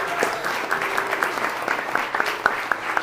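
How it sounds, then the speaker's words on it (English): An audience applauds as a speaker, Dr. Gabrielle Lyon, is welcomed, moderate clapping from a crowd with several sharper individual claps ringing out near the end of the short burst. "let's give a massive round of applause for my dear friend"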